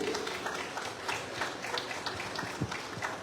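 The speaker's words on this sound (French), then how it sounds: "un tonnerre d'applaudissements pour Chloé" Audience applause at a French public solidarity event, greeting a sign language interpreter; a steady, dense wash of many hands clapping at moderate loudness, continuing evenly throughout without voices on top.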